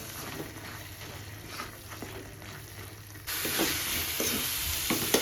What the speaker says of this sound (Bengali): চিকেন বানাবো তার জন্য মশলাটা কষছি